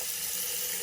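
Tap water runs steadily while being tested for hot water after a water heater repair, a close, even hiss of flowing water with no pauses.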